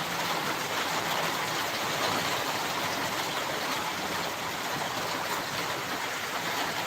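Heavy rain pours down in a dense, unbroken roar of even hiss that stays loud and steady throughout, with no pauses.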